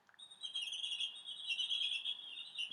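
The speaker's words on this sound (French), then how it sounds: "On va entendre le petit poussin, écoutez bien." High, continuous peeping from small chicks, a dense thin chorus of shrill calls running without break.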